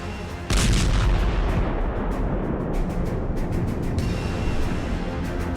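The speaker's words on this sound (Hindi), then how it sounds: "ईरान की जान खर्क द्वीप पर होते जरा इन धमाकों को देखिए" Loud, sustained rumbling blasts from strikes on Kharg Island, Iran, with a sharp onset after half a second, then continuous heavy booming and crackling, and brief bursts cutting through.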